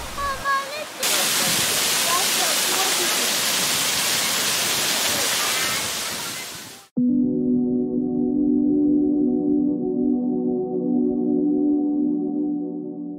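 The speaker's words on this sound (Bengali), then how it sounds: "অবশেষে ঝর্ণার উৎসমুখে আসতে পারলাম।" A large waterfall in Darjeeling, heard at its source, roars as a loud, steady broadband rush for about six seconds, then cuts abruptly to a different steady tonal hum.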